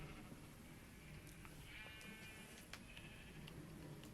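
Sheep bleating in Minecraft, a few wavering calls over a steady, noisy game background with faint ticks, no talk.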